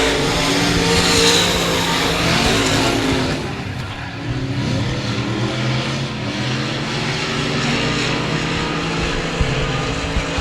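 Race cars roar around a track at a night race at the 2017 Texas Grand, a loud continuous engine drone that swells, dips briefly midway, then holds steady and close.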